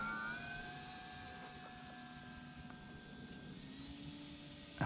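A P-51D Mustang Master Series Mark II RC model airplane on its maiden flight, its engine giving a steady, continuous drone at moderate distance with a faint whine and no talk over it.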